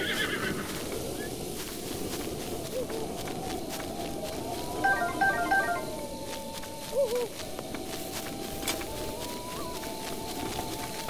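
A horse in a stable in the video game Zelda: Breath of the Wild whinnies a few times over a steady ambient bed, with faint hoof clops and a soft owl-like hoot in the background.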